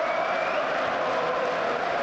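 A large football stadium crowd at Manchester United versus Newcastle United in the Carabao Cup, applauding steadily as a Newcastle midfielder is substituted, a dense, continuous roar of clapping and cheering.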